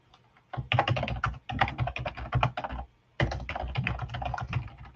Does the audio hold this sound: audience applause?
no